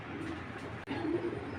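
Imported Belgian and Dutch racing pigeons in a loft give low, steady cooing, fairly close, with a brief dip midway and no talking.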